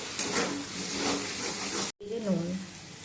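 Ginger paste and turmeric powder fry in a pan with a loud, steady sizzle and hiss, close up, broken by a brief silent gap before the frying resumes.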